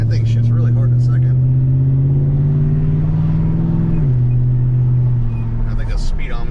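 A 2007 Chevrolet Silverado truck with a 4.8 V8 and bolt-on parts, driven around a block: a steady, loud engine drone from inside the cab. The pitch climbs slowly, then drops at a shift.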